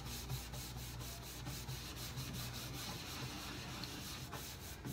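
A wax brush works a small amount of wax over the surface of a wooden china cabinet, giving a steady, close, continuous scrubbing rub with quick repeated strokes throughout.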